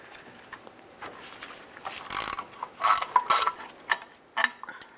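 A ratchet works a 16 mm starter bolt loose on a 2009-2020 Dodge Journey, with bursts of metallic clicking and clanking in the middle and end, close and fairly loud.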